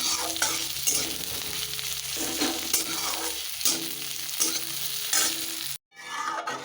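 Ghugni cooking in a very small amount of oil, stirred steadily with a spatula: a continuous close sizzle with repeated scraping strokes against the pan, broken by a brief pause near the end.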